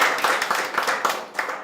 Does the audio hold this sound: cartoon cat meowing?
no